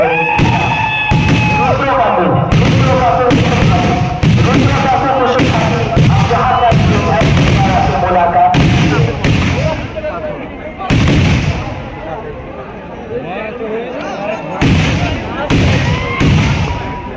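Fireworks at a Ravan effigy burning festival in Jhargram let off a rapid series of loud bangs and crackling bursts. A voice speaks over the crowd noise between the blasts.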